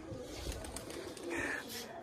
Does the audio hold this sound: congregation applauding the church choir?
no